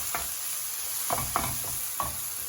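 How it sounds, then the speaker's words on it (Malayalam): Green chillies and spices being sautéed in a pan for mutton curry: a steady close sizzle with several short scraping stirs of a spoon, no voices. "ഒന്ന് നന്നായിട്ട് വഴറ്റാം."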